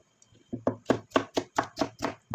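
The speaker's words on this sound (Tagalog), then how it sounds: "kakat natin yung cucumber. Yan. Cut natin siya into 4 cubes." A knife cuts cucumber into cubes for a simple vegetable salad, giving about eight close, crisp chops in a steady, even rhythm on a board.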